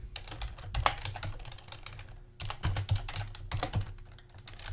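Bursts of close computer-keyboard typing come in two or three quick clusters with short pauses between, fairly quiet and with no talk over them.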